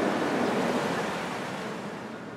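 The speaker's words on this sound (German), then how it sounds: "Oh nein, schon wieder Wind." Wind gusts through the game world of The Plan: a broad, steady rushing whoosh, fairly loud at first and slowly fading over a few seconds, with no talking.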